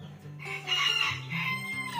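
A Transylvanian naked-neck rooster crows close and loud, one drawn-out call that rises, holds and wavers over about two seconds.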